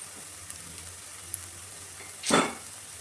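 Mutton curry masala frying in a pan, a faint steady sizzle that swells into a brief loud hiss as it is stirred near the end.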